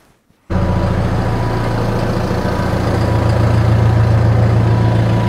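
A tractor used for winter road service starts abruptly after a short silence and settles into a loud, close idle. The engine gives a steady, deep throb that rises slightly toward the end.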